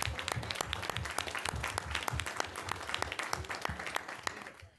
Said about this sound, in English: Can we give them a big round of applause for a nice job?